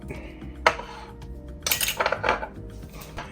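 Dry ingredients with ground mustard are mixed in a bowl, giving a sharp clink followed by a burst of rapid scraping and tapping of utensil against bowl, close and fairly loud.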